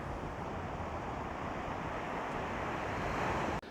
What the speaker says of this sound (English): Water's pretty rough. Good for surfing,